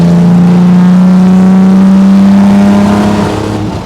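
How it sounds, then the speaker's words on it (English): A 1963 Jaguar E-type Lightweight accelerating hard in fourth gear on the road, its engine note a loud, steady, rising drone that holds strong for several seconds, heard up close from the car, before easing slightly at the end. "Here's fourth gear. We'll just lay into it."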